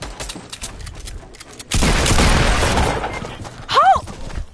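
Gunfire in Fortnite, with scattered shots and then a dense burst of rapid fire lasting a couple of seconds, followed by a whooshing sweep and more impacts, loud and close, alongside urgent shouting from a player.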